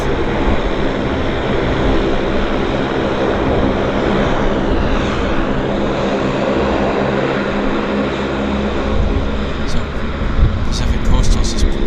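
A propeller airliner formerly flown for WestJet runs at Vancouver YVR airport, its loud, steady engine drone filling the air throughout, with faint clicks near the end.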